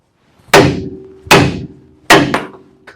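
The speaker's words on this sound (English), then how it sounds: "I just beat it with a hammer." A hammer beats on a ball joint of a 2wd 1997-2003 Ford F150, three sharp metallic strikes roughly a second apart, each ringing briefly, followed by a faint lighter tap.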